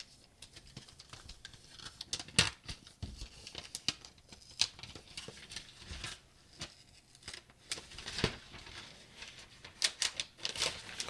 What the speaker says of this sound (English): Let's go ahead and take the wrapper off of it.